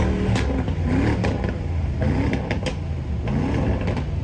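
A car with a faulty muffler revs at a rally starting grid, giving a loud, rough, rattling engine note that rises and falls in uneven bursts close by.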